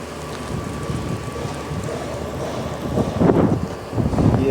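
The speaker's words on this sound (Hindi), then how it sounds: "तेज़ हवा चल रही है अभी, हवा भी काफ़ी तेज़ है" Strong wind blows outdoors on a hot sunny day, buffeting the microphone in rough rumbling gusts that swell louder toward the end.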